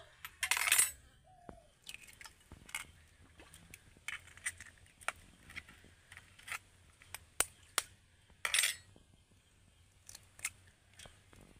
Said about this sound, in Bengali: এখন আমি ডিমগুলোকে এইভাবে ফাটিয়ে নেব।